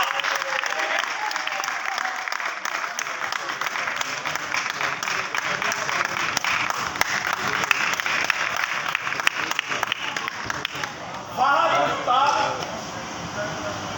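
Audience applause at a live stage show, a long, dense stretch of clapping that carries on steadily, with voices and a brief burst of other sound rising near the end.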